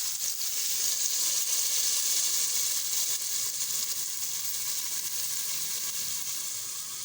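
Tomato masala for chickpea curry fries in oil with a steady, bright sizzle and hiss that runs continuously at an even level, close up, with no voices.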